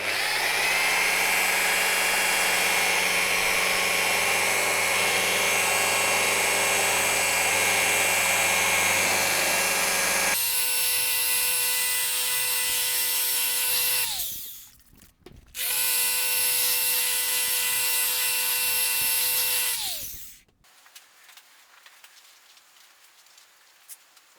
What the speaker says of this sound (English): we're just going to start working our way around the body, polishing it up